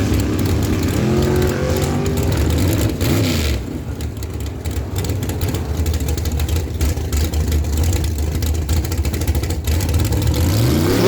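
Drag race run of a 1967 Chevy Camaro against a 1967 Chevy II hardtop: loud engines rev and roar through rising gear pulls, a brief dip, then sustained full-throttle howl that continues to the end.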